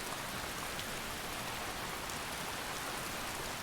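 Steady rain falls over a forest in the Skyrim game Wildlander, a soft, even hiss of drops heard alone with no voices and no breaks.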